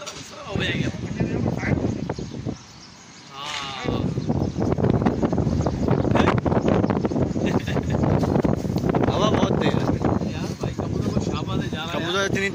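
Strong gusting wind buffets the microphone in a steady, heavy rumble throughout, with people talking over it outdoors on a rooftop in Hyderabad where pigeons are being flown.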